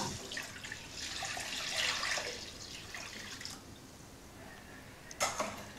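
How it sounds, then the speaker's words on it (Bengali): One litre of milk poured into a kadai on a lit gas stove, a soft splashing stream that swells and fades over a few seconds, followed by a brief clink of the pot, no talk. "এখানে 1 লিটার দুধ আমি ঢেলে দিব"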